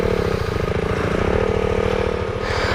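A small KTM 390 motorcycle labours through deep sand, its engine droning steadily and loudly with a low, pulsing throb and some clattering, held under strain for the whole stretch.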